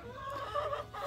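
Chickens cluck and chatter close by in a short, busy burst, several birds calling over one another.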